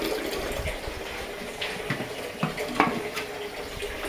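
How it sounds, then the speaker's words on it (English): Running tap water rinses juicer parts coated in fruit and vegetable pulp, a continuous rushing flow with a few sharper splashes and knocks as pieces pass under the stream, no voices. "If you just have running water, bang,"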